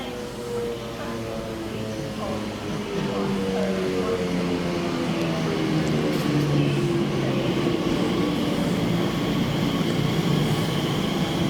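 An Elizabeth line passenger train to Maidenhead in London hums and rumbles steadily, with rising and falling motor tones as it moves, plus faint background voices.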